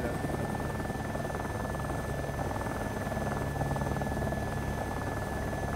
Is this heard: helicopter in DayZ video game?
yes